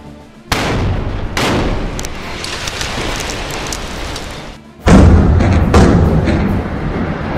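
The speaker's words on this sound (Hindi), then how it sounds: "धमाके से काले धुएं का गुबार उठता है और इलाके में फैल जाता है" A house is demolished by explosions: two loud blasts and a heavier third boom, each followed by rumbling debris and crackling, with no speech.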